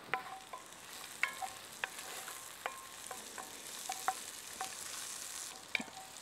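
Garlic and fennel seeds roasting in a pan, a faint, steady sizzle punctuated by sharp clicks and scrapes of a utensil stirring against the pan, close and quiet with no speech.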